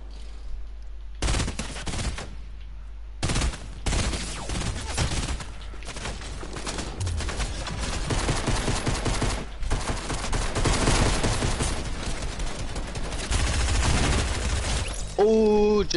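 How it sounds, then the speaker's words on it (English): Rapid bursts of video game gunfire and explosions rattle almost continuously, with grenade blasts among the shots, loud and close, while players talk over the action. "Is that you shooting?"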